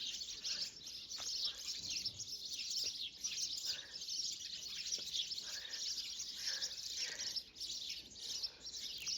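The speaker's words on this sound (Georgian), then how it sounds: "ჩიტები ჭიქჭიქებენ." Small birds chirp and tweet outside in a village, thin high calls scattered over a quiet, steady background with faint insects.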